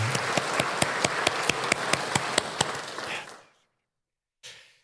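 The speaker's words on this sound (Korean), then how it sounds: "우리는 힘내시라고 박수 치도록 하겠습니다." A church congregation claps in a steady, even rhythm, about five crisp claps per second, for three seconds before the sound stops abruptly into silence, followed by a faint brief rustle.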